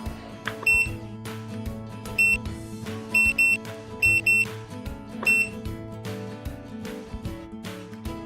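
Short bright electronic beeps from a P3208 320W smart power supply's prompt tone, sounding in several quick bursts and pairs over a steady background music bed, with no speech.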